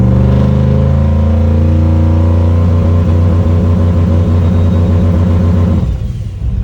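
A car engine revs hard in drive against the trans brake, with a newly built transmission, while the vehicle sits on jack stands. It gives a loud, close, sustained roaring rumble that holds steady and then drops off abruptly near the end.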